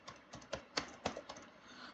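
Fingers type on a computer keyboard while filling in an online application form, a quick, uneven run of close, crisp key clicks at moderate volume with no voices.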